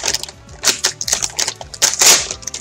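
Plastic and cardboard packaging of a duel figurine being torn open by hand, a burst of close crinkling, crackling and rustling with sharp bursts, loudest near the end, over a low background hum.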